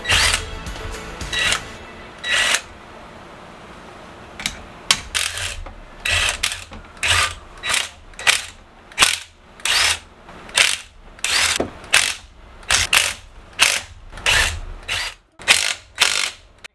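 A power tool rattles bolts loose from the intake manifold of a 1984 Corvette with Cross-Fire Injection, a steady run of short ratcheting bursts repeating close by in a quiet garage with no talk.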